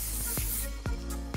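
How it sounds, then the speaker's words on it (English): Shine spray mists onto a finished hair updo in several short aerosol bursts, close and hissing, with brief pauses between. "So I always end my updos with some spray shine."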